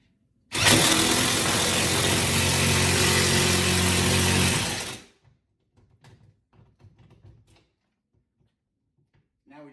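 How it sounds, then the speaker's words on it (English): A half-inch drive electric impact wrench spins a socket on a TV mount bolt in one loud burst of about four seconds, then cuts off, leaving faint clicks and handling noises. "this ½ inch drive electric is a beast"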